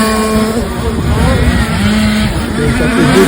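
A race car accelerates hard at full throttle during a round of the Martinique championship, its engine note rising and falling loudly and continuously, close by, with faint voices underneath.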